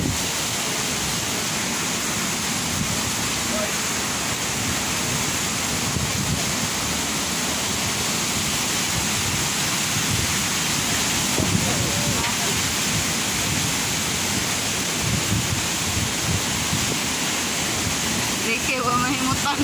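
Strong wind blowing outside a wooden house in Secayab, Dipolog, a dense, steady roar that stays loud and close for the whole stretch with only slight swells.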